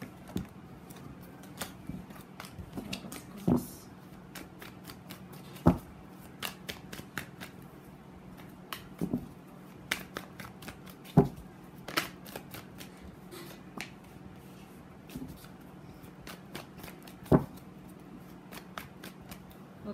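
Tarot cards being shuffled by hand, a steady run of soft riffling and papery flicks with sharper slaps and taps as the deck is cut and squared, close and fairly quiet with no talking.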